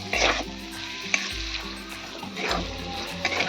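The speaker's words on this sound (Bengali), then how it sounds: "আমি ভালো করে ভেজে নেব।" Chicken skin frying in a pan in its own rendered fat with a little oil, a steady close sizzle with faint crackles and a few light utensil stirs, no voices.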